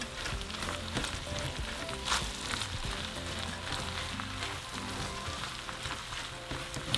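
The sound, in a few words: minced garlic sizzling in a pan for discada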